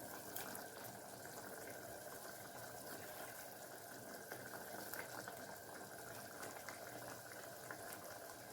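A pot of rasam with tomatoes boils steadily, giving a constant close bubbling hiss with no break and no voices over it.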